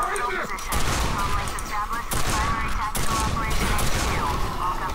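Shotgun blasts and other weapon fire ring out in a Quake 4 firefight, dense and continuous, mixed with game effects and background noise.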